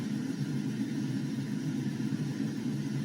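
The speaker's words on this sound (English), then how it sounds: "Gray noise." Continuous broadband gray noise hiss from a Loftie device with a soft low rumble underneath, even and unchanging throughout, with no other sounds.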